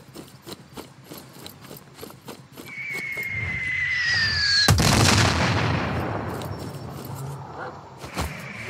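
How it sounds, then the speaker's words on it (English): Mortar fire in the video game Sniper Ghost Warrior 3: a rising and falling whistle of an incoming shell, then one loud, close blast whose rumble fades slowly, over sharp gunshot clicks and battle noise. "Open mortar fire! Firing mortars!"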